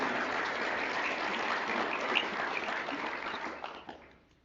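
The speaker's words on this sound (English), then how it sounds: "One more round of applause for Dr" Dense audience applause at an optometry white coat ceremony, many hands clapping steadily at close range, then thinning and fading out near the end.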